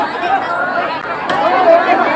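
Dense crowd chatter at the Saharpur jatra fair: a continuous, even babble of many overlapping voices with no single speaker standing out, steady in loudness throughout.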